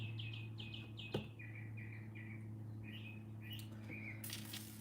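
Small birds chirping outdoors in short repeated tweets, fairly faint over a steady low hum, with one brief sharp click partway through and a brighter burst of sound near the end.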